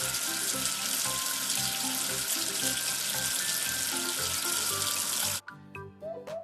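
Water runs from a tap, rinsing soap off in a children's number-learning game: a steady, close hiss of flowing water that stops abruptly near the end, followed by a few light clicks and drips.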